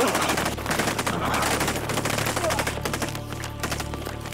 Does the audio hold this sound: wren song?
no